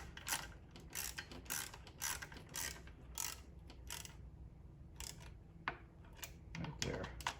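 A ratchet snugs down the intake manifold bolts on a 2006 Pontiac GTO, giving a run of close, crisp clicking bursts with short pauses between strokes.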